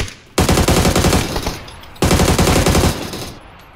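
Loud, close automatic gunfire from the video game PUBG comes in two rapid bursts of about a second each, separated by a short pause, with reverberant tails after each burst.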